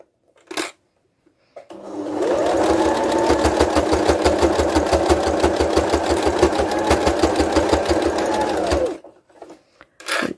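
A sewing machine stitches a fabric face covering, running steadily and loudly for about seven seconds with a fast, even mechanical chatter, then stopping; a brief click comes before and after.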